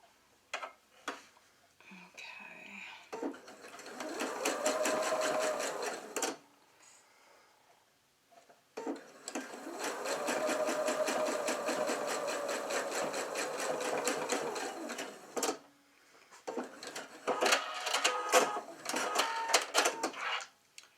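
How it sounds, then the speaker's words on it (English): A sewing machine stitches close to the edge of a teddy bear through bulky fabric in three bursts of rapid, rhythmic needle clatter, separated by short pauses and quiet handling sounds. "I'm just going to sew it close to the edge so it's on there and it's already closed"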